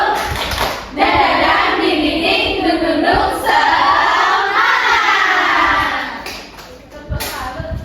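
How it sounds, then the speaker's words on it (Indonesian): Elementary second-grade class in an Indonesian lesson shouting a rhythmic spirit-clap chant together, loud children's voices with hand claps blended into the crowd noise for several seconds before it trails off. "1, 2, 3, tepuk semangat."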